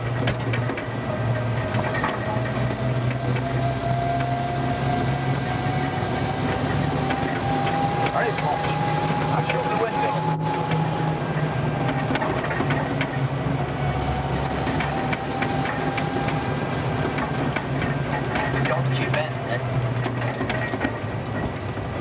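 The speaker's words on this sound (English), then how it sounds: "You hear that knocking? Yeah. That's the starting handle." A Land Rover engine running with a loose starting handle knocking, a continuous close mechanical rumble with a steady rhythmic clatter, while people talk over it.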